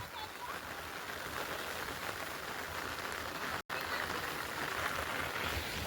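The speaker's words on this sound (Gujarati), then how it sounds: "વરસાદ ચાલુ છે." Steady rain falls outdoors during monsoon, a continuous even patter and hiss at moderate level with a momentary dropout midway, and no speech.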